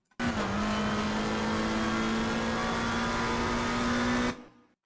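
McLaren 720S GT3 Evo race car at full throttle on a flying lap of Paul Ricard, sustained loud engine drone with a steady high pitch and slight tyre noise, held without a break until it cuts off abruptly near the end.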